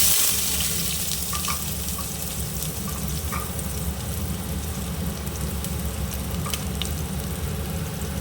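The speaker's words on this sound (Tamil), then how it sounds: "இப்போ வெங்காயம் போட்டுக்கலாம்." Onions frying in hot oil with mustard seeds for curd rice give a constant, dense crackling sizzle, even and close, with a few faint clicks and no talking.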